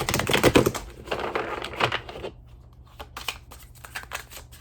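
Tarot cards shuffled and drawn by hand in a quick flurry of papery riffles and slaps, loudest at the start, then scattered softer clicks and card snaps close by with no talking.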